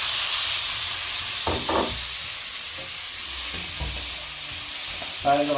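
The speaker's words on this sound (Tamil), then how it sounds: "இப்போ வெங்காயம் வதங்கி விட்டு நாங்கள் அதுக்கிட்ட தக்காளி பழத்தை போட்டு வதக்குவோம்" Tomatoes sautéing in a pan with fried onions for a mutton intestine curry, a loud continuous hiss and sizzle with a few scraping stirs, no talking.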